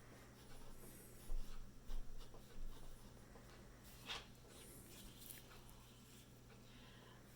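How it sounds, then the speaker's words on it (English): A pen scratches on paper in short, faint strokes, writing out a word in several quick bursts against a quiet background hum. "I'm going to write the word glasses"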